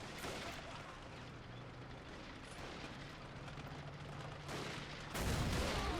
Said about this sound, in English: The gun back there is still kicking into action.